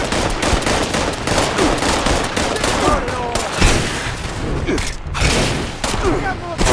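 Rapid bursts of gunfire from the video game Fallout 76, dense and continuous with several sharp louder shots, played over game sound while people talk excitedly throughout.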